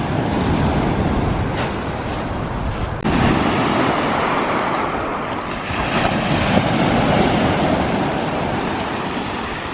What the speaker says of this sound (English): Thought I'd give you a few sounds of the sea.